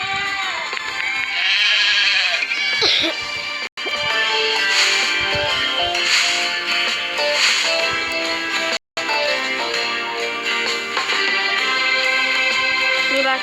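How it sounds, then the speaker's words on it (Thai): Sheep bleat repeatedly on a farm, close and fairly loud amid a busy mix of other animal noise and clatter, with two brief dropouts. "อันนี้แกะ"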